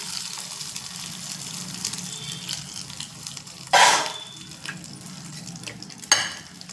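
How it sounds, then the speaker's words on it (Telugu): Fenugreek seeds, urad dal, cumin, mustard seeds, dried red chillies and curry leaves fry in hot oil as a tempering for a cucumber curd curry, giving a steady close sizzle with two sharper bursts as more goes into the pan. "తాలింపు వేసేది కొంచెం మెంతులు, మినపప్పు, జీలకర్ర, ఆవాలు, ఎండుమిర్చి, కరివేపాకు వేయించి తీసుకొద్దాం"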